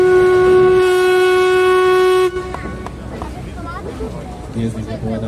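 A steam locomotive with 2T2 wheel arrangement, built for suburban service, blasts its whistle loudly and steadily for about two seconds, then cuts off, leaving crowd chatter and hall ambience with voices speaking.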